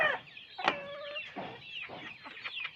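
A gamecock at a cockfight clucking and giving short throaty calls in a close, irregular series of bursts, with no speech over it.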